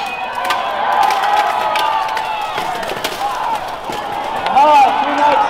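A cheering crowd fills the air at a full steel combat knight fight at a convention, with sharp metallic clangs and thuds of armored fighters striking through the steady roar and scattered shouts.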